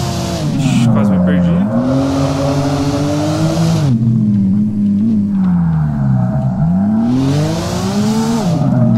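A car drifting in a racing video game, its engine droning and swooping in pitch with broad bursts of tire squeal as it slides through corners, loud and continuous.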